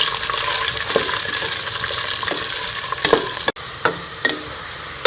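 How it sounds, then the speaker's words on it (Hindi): Onions and whole spices frying for balti gosht, a loud steady sizzle with occasional scrapes and stirs, one brief gap near the end before the hiss resumes; no talking. "प्याज को लाइट गोल्डन होने तक फ्राई कर"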